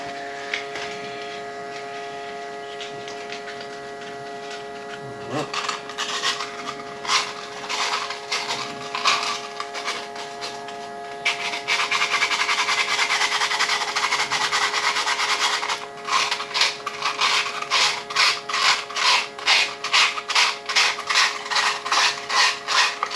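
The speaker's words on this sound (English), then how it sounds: "I'm just going to get some sandpaper, fine sandpaper, and go in there and just kind of clean it up" Fine sandpaper rasps against the metal of a lathe tailstock over a steady background hum, starting as scattered rubbing and building to loud, rhythmic back-and-forth strokes.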